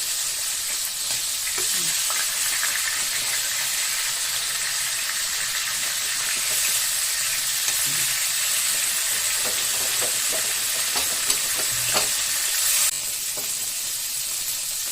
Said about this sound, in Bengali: মাছটা সুন্দর ভাজা হয়ে গেছে।